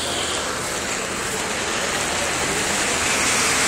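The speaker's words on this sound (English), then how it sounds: "it's not only is it hailing, but, like, it's a substantial downpour, like it is storming" Heavy rain pours down in a substantial storm downpour mixed with hail, a dense, steady, loud broadband roar of drops beating on surfaces with no pauses and no voices.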